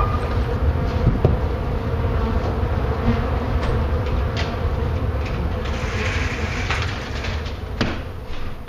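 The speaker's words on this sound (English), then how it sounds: "Those wasps continued to bombard me throughout the day." Wasps buzz steadily through a sustained, dense drone, with faint clicks and knocks on top and no speech.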